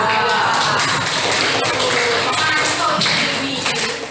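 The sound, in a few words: applause for a class group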